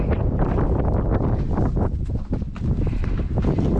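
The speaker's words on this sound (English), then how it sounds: "And the wind, it's very crazy." Strong gusting wind buffets the microphone high in the Swiss mountains, a loud, continuous roar with constant low rumble and ragged bursts, no voices heard.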